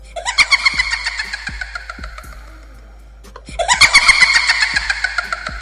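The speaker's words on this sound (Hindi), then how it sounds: "अरे ये चिल्लाने की आवाज कहाँ से आ रही है?" Shrill, harmonic screaming rises in two long bursts separated by a brief silence, a horror-story effect of a voice crying out from inside a well, loud and close with thumping accents underneath.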